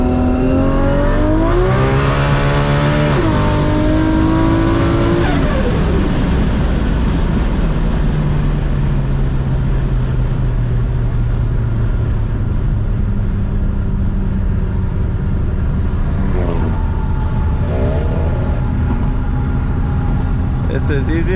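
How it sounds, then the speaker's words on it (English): A 1000+ horsepower MKIV Supra with a sequential three-speed transmission revs hard under full throttle, its engine note climbing and dropping through shifts before settling into a steady drone, with a voice talking over it. "You literally floor the car and you push this back every time you want to shift."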